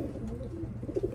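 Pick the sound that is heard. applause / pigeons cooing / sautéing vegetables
pigeons cooing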